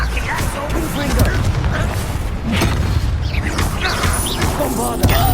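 Crashing, booming blasts from a Confringo fire spell in Hogwarts Legacy hit again and again over busy combat noise, mixed with creaks and mechanical clatter, while a voice shouts along.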